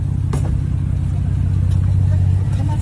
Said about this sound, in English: You want to hear that engine again? Let's listen to that engine.